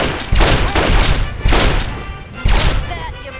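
Video game gunfire erupts after a shouted order, three heavy crashing volleys about a second apart, loud and close, with voices mixed in.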